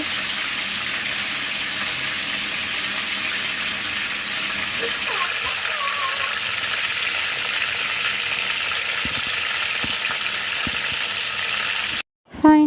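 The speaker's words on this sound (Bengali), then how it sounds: "এই মুরগিগুলো ভাজতে গেলে একদম তেল ছিটে যায়" Chicken pieces frying in spattering oil make a steady, loud broadband sizzle that runs nearly unbroken, with a few soft knocks near the end and a brief cut just before it closes.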